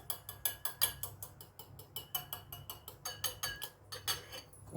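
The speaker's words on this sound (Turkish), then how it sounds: "Güzel yine onu çırpacağım. bir kaşık yardımıyla." A spoon whisks a mixture in a bowl for a savory onion-and-minced-meat pastry, giving a steady run of quick, close clinks and taps at an even rhythm with no talking.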